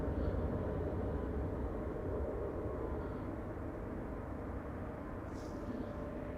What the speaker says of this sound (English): Think there is an Air France to Paris taxiing over there somewhere.